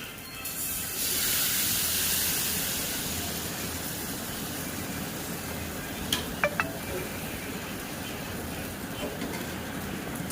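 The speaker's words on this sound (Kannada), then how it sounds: "ತವದ ಮೇಲೆ ಸ್ವಲ್ಪ ಈರುಳ್ಳಿ ಹಾಕ್ಕೊಂಡು ಅದ್ರ ಮೇಲೆ ದೋಸೆ ಹಾಕ್ತೀನಿ." Rava dosa batter with onion hits a hot tawa, a broad steady sizzling hiss that swells in the first seconds and then eases, with a couple of faint clinks near the end.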